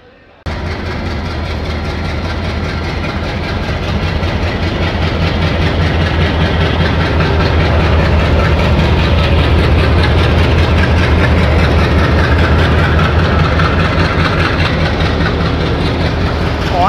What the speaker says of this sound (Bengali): On duty অ্যালকো locomotive.